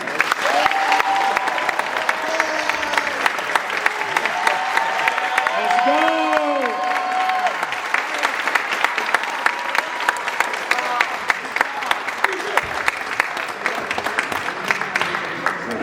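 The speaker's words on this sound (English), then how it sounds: "Let's give a round of applause to our athletes as they walk in." A high school signing-day crowd applauds as athletes walk in, sustained loud clapping with some cheering and whoops throughout.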